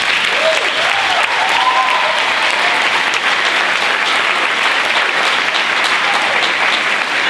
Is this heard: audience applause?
yes